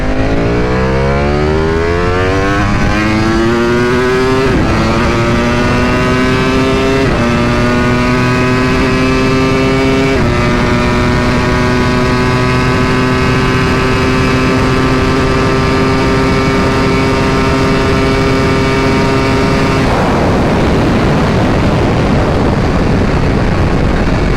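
A 2021 Ducati V4R motorcycle pulls hard from a second-gear roll-on, its loud engine note climbing steeply through several upshifts and holding high revs before abruptly cutting off to wind noise near the end.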